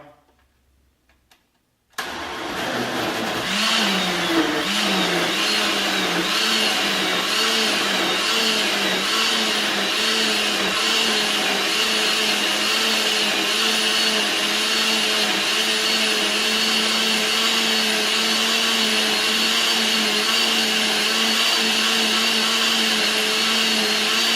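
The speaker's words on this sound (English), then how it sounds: "So once we're done with that, we're gonna blend it." After a brief quiet start, a blender switches on and runs loudly and steadily blending salsa verde, its whirring motor pitch wavering slightly at first then holding steady for over twenty seconds.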